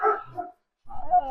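Dogs barking nearby, two short loud bursts of barks and yips separated by a brief silence.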